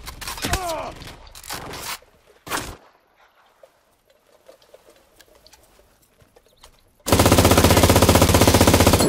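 Gunfire in the shooter game Cuisine Royale: a few sharp bursts early on, a quiet stretch, then a loud, dense run of rapid automatic fire to the end.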